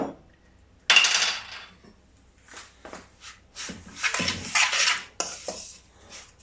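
A spoon clatters and scrapes in a bowl while chicken wrap filling is stirred together with soy sauce and chili sauce, giving bursts of close metallic clinks and scraping between brief quiet gaps.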